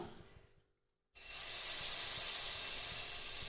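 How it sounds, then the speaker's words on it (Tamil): Marinated paneer pieces go onto a greased tawa and start sizzling, a steady loud hiss that cuts in abruptly after a brief quiet moment and keeps going evenly. "நம்ம ஊறிக்கிட்டு இருக்கிற பன்னீரை அதில் எடுத்து ஒன்று ஒன்றா வச்சிடலாம்"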